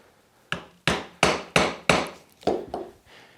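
A chisel struck by a mallet chops a through mortise in wood, severing fibers across the grain: seven sharp, close knocks in an uneven rhythm, each ringing briefly before the next blow, with no talking.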